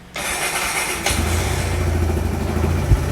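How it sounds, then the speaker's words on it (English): A Kawasaki Z125 Pro motorcycle engine cranks over and fires up about a second in, then settles into a steady, loud idle up close with a brief blip near the end. "right up there, we'll go ahead and turn the bike on"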